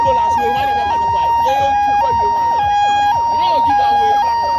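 An ambulance siren wailing in flooded, jammed traffic in Accra after a five-hour downpour, a loud two-tone cycle repeating about every second, with traffic noise beneath.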